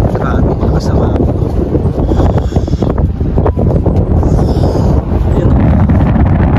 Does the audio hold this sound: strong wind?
yes